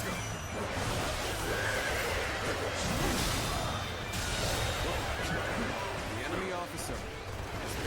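Horses whinny and neigh amid a chaotic battlefield in the Dynasty Warriors: Origin video game, several loud calls rising over clashing combat noise and clip-clopping hooves, with a voice talking through parts of it.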